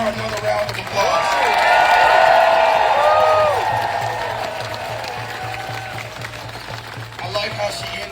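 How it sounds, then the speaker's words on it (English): Outdoor crowd at a Hands Off political rally in Atlanta claps and cheers loudly, swelling then fading over several seconds, with a whoop and a steady hum beneath and talk returning at the end. "give her another round of applause"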